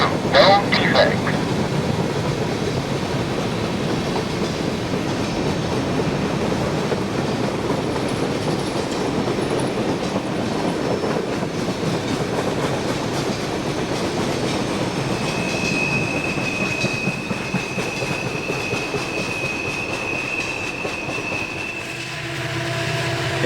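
A Norfolk Southern container train bound from Morrisville, Pennsylvania to Chicago rolls past after leaving the Allegheny Tunnel, a steady rumble of wagons with rhythmic wheel clatter and a brief high squeal, fading toward the end.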